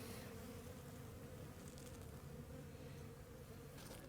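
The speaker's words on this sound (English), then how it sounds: "bees are looking pretty good" Honey bees hum in an open winter hive with fondant on the frames. The buzzing forms a steady, low, continuous drone that stays even and fairly soft throughout, with no talking.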